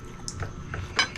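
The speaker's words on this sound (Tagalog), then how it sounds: "Lagay natin sa kutsara yan." A spoon clinks against a dish while beef bone marrow is scooped up, with a couple of soft metallic taps and a brighter clink near the end, close and fairly quiet.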